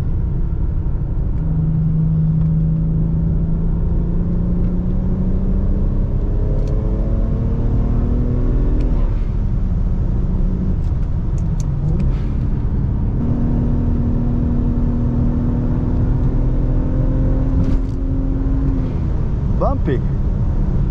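A manual BMW 335i with stage 2 tuning climbs a mountain road, its engine droning steadily with rising and falling harmonics as it accelerates through gears, loud and continuous under constant road rumble, with a sharp squeal near the end.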